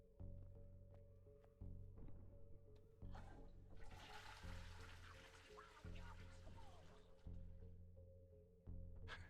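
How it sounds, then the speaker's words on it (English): A toilet flushes inside a horror video game, a broad rushing, gurgling swell of water over a steady low droning backdrop with intermittent thuds, loud and close for several seconds before draining away. "All toilets sound like they're talking when you flush them."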